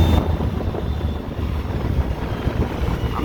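Polaris 700 Ranger EFI utility vehicle engine braking off the throttle, a steady low rumbling drone that stays fairly even and close throughout, with no talk over it.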